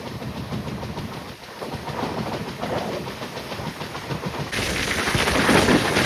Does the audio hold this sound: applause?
no